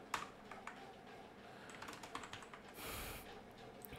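Typing on a computer keyboard while entering text into a table cell in Google Docs, a soft steady patter of key clicks at close range with a brief louder burst near the end, no talk.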